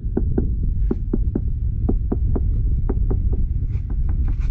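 A sailboat hull ashore under a crane is struck with repeated sharp knocks, about twenty irregular taps over a low steady hum, close and clear, no speech.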